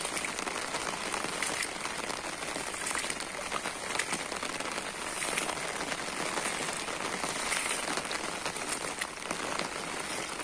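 Steady dense rain pours down near a village well and fish pond after a long spell of rain, a constant hiss of drops on surfaces with no let-up, moderately loud.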